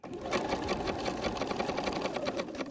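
A sewing machine stitching a seam on fabric for a top, its needle set to position zero; a close, rapid, even chatter of stitches running continuously, moderately quiet and without talk.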